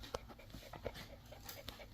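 A border collie heeler mix puppy pants softly and rapidly at close range, quick breathy huffs with a faint whimpering edge over a low background hum.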